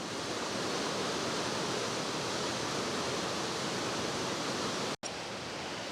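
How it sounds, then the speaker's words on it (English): The Lackawanna River runs high and fast after a nor'easter, making a steady, dense rushing roar that stays constant throughout, with only a momentary dropout near the end. "the water is high and it's running fast in the Lackawanna"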